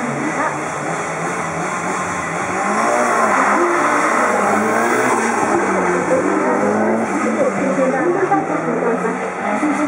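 Mitsubishi Lancer Evolution rally cars, an Evo X and an Evo VI, compete at a Tokai regional event, with a loud engine roar that builds and holds steady under occasional talk from people nearby.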